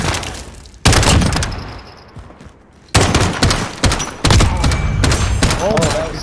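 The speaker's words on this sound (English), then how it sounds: "Oh, that was some nasty shooting." Bursts of Call of Duty Modern Warfare (2019) gunfire, loud close rifle volleys and rapid automatic fire in several clusters with thuds between, a brief quieter lull in the middle, and game sounds throughout.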